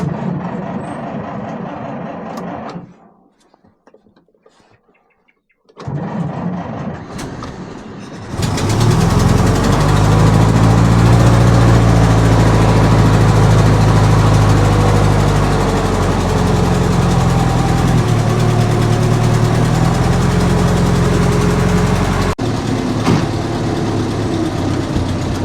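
A classic vehicle in a workshop cranks briefly, goes quiet, cranks again and fires, then settles into a loud, steady idle that continues until it cuts off near the end.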